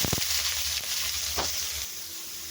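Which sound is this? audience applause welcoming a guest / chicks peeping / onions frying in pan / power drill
onions frying in pan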